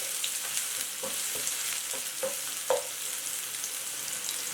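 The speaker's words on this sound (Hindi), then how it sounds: "रिफाइंड ऑयल हमारा गर्म हो गया है। अब इसमें ऐड करते हैं बारीक कटी हुई प्याज।" Finely chopped small onions sizzle steadily in hot refined oil, a dense bright frying hiss with a few sharper crackles and spoon scrapes, close and loud, no talking.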